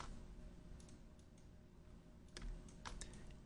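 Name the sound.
typing text on a computer keyboard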